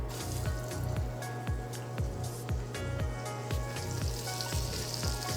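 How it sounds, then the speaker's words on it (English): Veal shanks browning in pancetta drippings inside a pot, giving a steady soft sizzle with faint crackles and a repeating low thump in the background. "We're gonna go ahead and brown both of the shanks."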